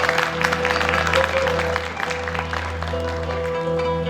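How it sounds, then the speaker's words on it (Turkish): Audience applause greets a traditional Diyarbakır music ensemble at an eyvan concert in a historic venue, a dense patter of clapping laid over a steady low electrical hum, fading a little toward the end. "Ve ekibimize büyük bir alkış istiyorum."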